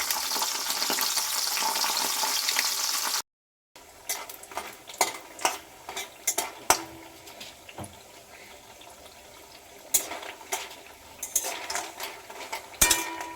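Lentil dumplings (bori) frying in hot oil, a hissing sizzle at first, then quieter crackling broken by sharp clinks and scrapes of a utensil against the pan.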